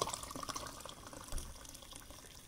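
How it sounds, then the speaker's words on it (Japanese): Hot water poured from a kettle into a glass to make shochu oyuwari, a close, continuous trickling splash that is loudest at the start and gently fades, with no talking. "ちょっと沸いたと思うんで、お湯割りね、飲んでいきましょうか。"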